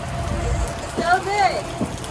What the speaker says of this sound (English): it started to piss down rain